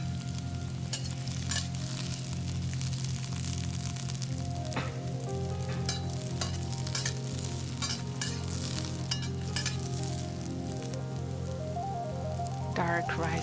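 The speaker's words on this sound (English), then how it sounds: "Stir fry." Bell pepper slices are stir-fried in a wok, a dense, continuous sizzle with quick, repeated clatter from stirring, close and loud throughout.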